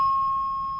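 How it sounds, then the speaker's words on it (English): A hotel fire alarm sounds a steady, piercing electronic tone continuously over faint low rumble, holding one pitch without a break. "the fire alarm went off"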